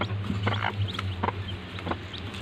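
A Rhode Island crossbreed chicken clucks in a few short bursts over a low steady background hum.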